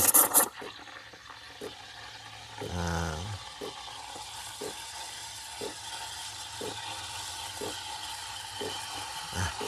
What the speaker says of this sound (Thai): เสียงเป่านม